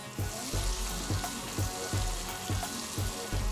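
Sesame seeds, garlic and scallions crackle in melted butter in a saucepan over medium heat, a continuous close sizzle broken by regular soft knocks and stirring bumps, with no talking.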